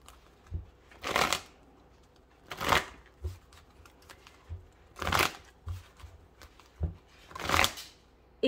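Tarot cards being shuffled by hand in four bursts of riffling, each lasting about half a second to a second, separated by quieter pauses, close and fairly loud with no talking.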